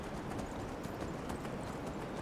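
A horse's hooves clop through snow in the Skyrim video game, a rapid, steady run of muffled thuds at moderate volume with no speech over it.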